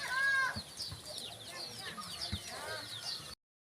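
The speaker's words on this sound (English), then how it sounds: "The chicks are all over the place." Chickens and chicks cluck and chirp busily at feeding time on a rural farm in the Philippines, a steady close chorus of fowl calls with a few low thumps.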